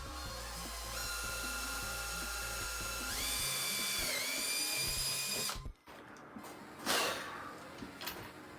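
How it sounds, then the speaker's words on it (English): A power drill with a 1/4 inch bit whines steadily at high speed through carbon fiber skate boots, its pitch rising as the bit bites, then stops abruptly, followed by a few clatters and a brief burst. "1/4 inch drill bit again, right through the carbon fiber."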